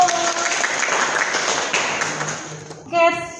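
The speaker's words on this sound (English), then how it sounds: "Everybody give applause." A crowd claps in sustained applause for a few seconds, then it fades and a voice begins speaking.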